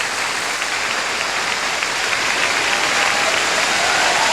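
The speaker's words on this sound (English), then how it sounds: "a great hand from the crowd, as you may imagine, here in the western part of Germany" Steady, dense applause from a large arena crowd at a 1999 Nations Cup figure skating pairs short program in western Germany, sustained and even throughout with no voices standing out.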